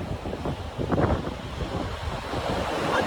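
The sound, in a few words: cool wind and waves on a beach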